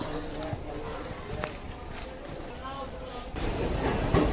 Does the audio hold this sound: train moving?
yes